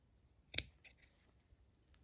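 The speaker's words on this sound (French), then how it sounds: "vous allez aussi couper au niveau des pointes l'excès de tissu et au niveau des creux" A single crisp snip of scissors trimming excess fabric at the points and curves of a sewn star for a Christmas tree decoration, followed by a fainter second cut in an otherwise quiet room.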